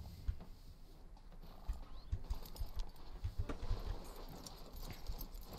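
A horse's hooves clip-clop softly in Red Dead Redemption 2 as the stallion shifts and walks, with irregular low thuds and faint movement, quiet and close, with no talk.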